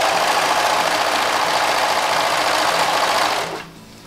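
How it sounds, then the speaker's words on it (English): A serger sewing machine runs steadily, trimming fabric along a seam with a dense, continuous whirring buzz for over three seconds before it abruptly winds down and stops. "as we serge along that it is trimming the fabric so we have a nice finished seam"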